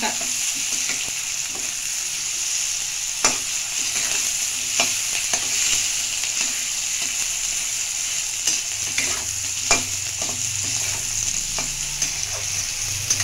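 Beto shaak leafy greens fry in a pan with a steady, bright hiss of hot oil, punctuated by occasional clicks and scrapes of stirring, close and continuous with no talk.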